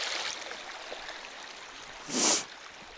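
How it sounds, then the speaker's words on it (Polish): Gentle, steady flow of a small stream, the Łącka Rzeczka (Czarna Woda), where it empties into the Dunajec river, heard close and alone with a brief louder rush near the end. "mamy ujście Łąckiej Rzeczki, czyli Czarnej Wody do Dunajca"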